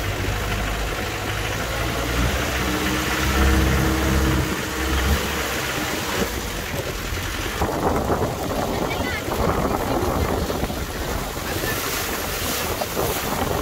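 A hired jeep on a ride in Coorg toward Mandalpatti, heard as loud rushing wind buffeting the microphone over a rough engine drone and rattling, continuous and close throughout.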